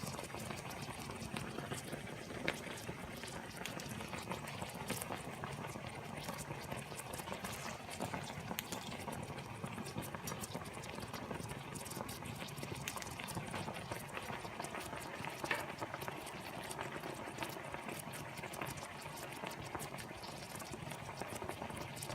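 Liquid bubbles and fizzes quietly and continuously during parkerizing of metal, a soft steady simmer with small popping sounds and no voices.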